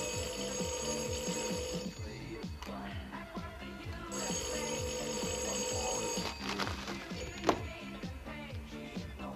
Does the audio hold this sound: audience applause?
no